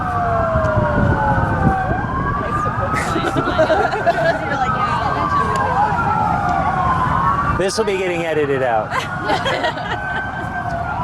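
Wailing emergency sirens rise and fall continuously, several overlapping at once, loud and close, in Washington, DC, while a person speaks briefly over them.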